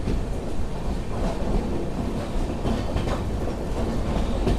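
A Sairang express train rolls along a gentle curve on the Mizoram line, its steady rumble of wheels and carriages loud and continuous with a faint clatter throughout.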